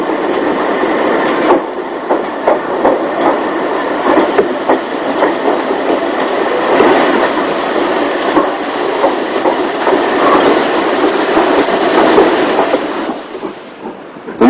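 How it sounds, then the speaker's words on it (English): A 1958 steam train with a Western Region Class 4200 2-8-0 tank locomotive at the back rumbles past, a loud, continuous roar of wheels and clatter lasting about thirteen seconds before fading. "On the back of this train is a Western Region Class 4200-280 tank, number 5226, which dates these sequences after May 1958."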